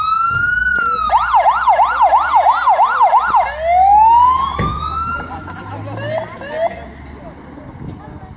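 A police car siren wails loudly and close by, first in a rapid yelp pattern and then in a slow rising wail. Faint voices and some knocks can be heard under the siren.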